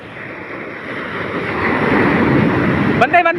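Sea waves wash around a small wooden outrigger boat during a rescue, a broad rushing surge mixed with wind buffeting the microphone that swells louder, before a voice cuts in at the end.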